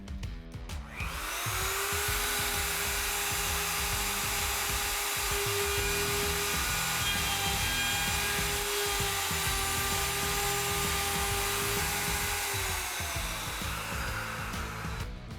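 Wood router cutting hinge mortises into a door at three marked hinge positions, a loud steady high-pitched whine that holds for about thirteen seconds with slight load changes, starting and winding down at the ends.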